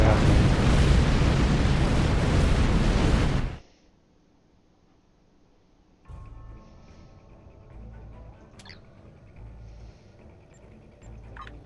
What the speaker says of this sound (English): Way too many explosions to be happening.